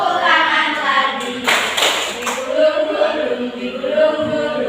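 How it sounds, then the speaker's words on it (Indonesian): Classroom students clapping hands during a lesson activity: a short burst of clapping in the middle, surrounded by children singing and talking. "Buka tutup, bertepuk tangan."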